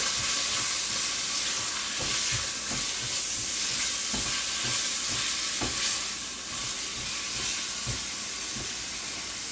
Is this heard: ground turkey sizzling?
yes